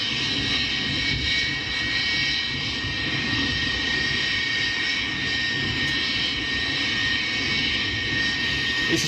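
An Airbus A320neo jet engine roars steadily and loudly at close range, a continuous broadband rush with a high whine layered on top, with no speech.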